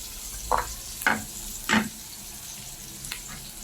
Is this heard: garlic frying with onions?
yes